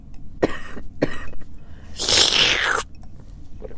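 A few short, sharp coughs early on, followed by a louder, breathy burst of noise lasting under a second.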